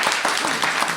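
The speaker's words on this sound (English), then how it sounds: "little round of applause, please, Sally Bayley." Brief, fairly faint applause from a small theatre-studio audience at a literary gala event, a short patter of many hands with no talking over it.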